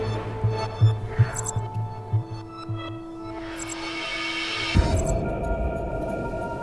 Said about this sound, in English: What's the rumbling, though?